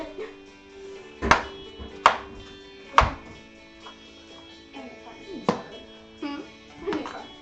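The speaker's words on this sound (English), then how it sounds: "keep chopping up potatoes" Potatoes chopped on a cutting board while mashed potatoes, ham and apple sauce are prepared: several sharp knife chops land at uneven intervals over a faint background hum, with no talking.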